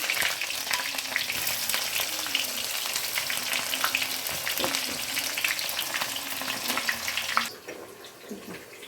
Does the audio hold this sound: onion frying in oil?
yes